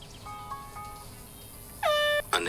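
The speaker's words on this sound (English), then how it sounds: "Can you hear that? It's like a horn or something." Faint horn tones sound twice in the distance, then a loud, close air horn blasts once briefly, followed by a short noisy burst, in the video game The Hunter: Call of the Wild.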